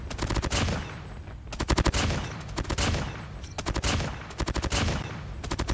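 Rapid bursts of PDW-57 submachine gun fire in the mobile shooter Call of Duty Mobile, several loud clustered volleys separated by short pauses, with game effects filling the gaps.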